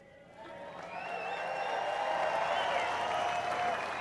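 Large crowd at a San Francisco golf event applauding a speech, with steady dense clapping that swells after a quiet start and holds strong, a few cheers mixed in.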